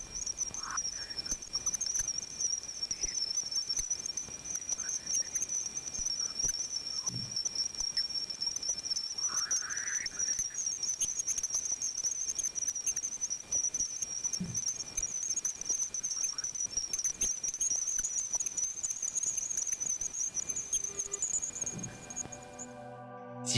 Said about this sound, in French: Voici le son de Jupiter.